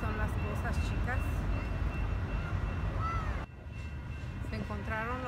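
Trains pass at a duck park, giving a continuous rolling rumble under steady chatter and children's voices, with a brief drop in level partway through.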